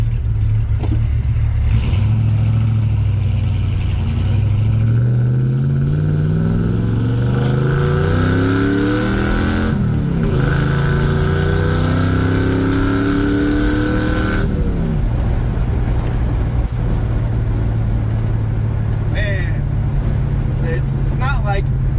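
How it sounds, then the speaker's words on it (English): A Ford F100 truck engine with new dual valve springs and MSD ignition runs loudly and steadily close by, its pitch climbing and falling with revs before settling into an even idle. "you can tell the engine is definitely more stable"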